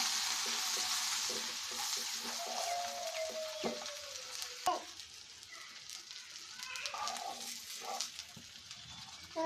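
Garlic, chopped onion and three chillies fry in a pan with a soft, steady sizzle, broken by a few clinks and scrapes of stirring, fairly quiet and close.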